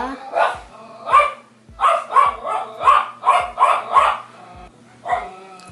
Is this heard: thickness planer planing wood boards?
no